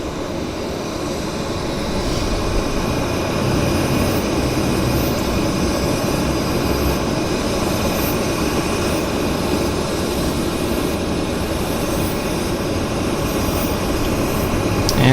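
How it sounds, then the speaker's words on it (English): An Airbus A320 jet departing at Vancouver Airport, a loud, steady roar of engines that holds at an even level throughout, with no voices over it. "Got an A320 departing as well."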